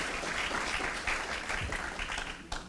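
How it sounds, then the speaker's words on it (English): An audience at a talk on resilient Florida coastlines gives a round of applause, a moderately quiet, steady patter of many hands clapping that continues to the end. "I think I deserve a round of applause."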